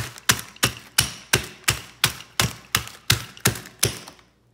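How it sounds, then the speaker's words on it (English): Oreo cookies inside a plastic bag struck repeatedly with a rolling pin, about twelve sharp, evenly spaced crunching thuds with crackling bursts, close and loud, no talking. "I have the rest of my Oreos in a plastic bag, and I have a rolling pin, and I'm going to start to break them up."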